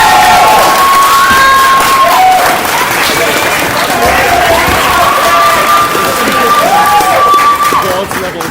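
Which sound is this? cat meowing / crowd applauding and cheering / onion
crowd applauding and cheering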